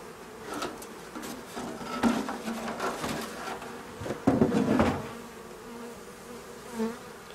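Bees buzzing around an open beehive during a spring inspection, a steady close drone with wings whirring past, plus a few knocks and a wooden clatter from hive frames being handled; no talk.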